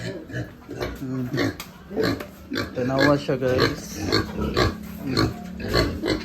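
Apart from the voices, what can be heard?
pigs grunting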